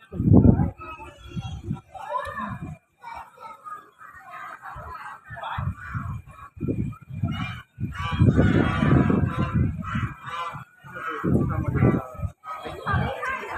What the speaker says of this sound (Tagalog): Daming gansa.